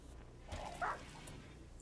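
A dog in the video game RimWorld gives a single short, faint yip or bark midway through, over a low, steady game background.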